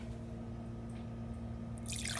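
Plain tap water drips and trickles quietly into a container indoors, with a faint steady hum underneath and a brief brighter splash of pouring near the end.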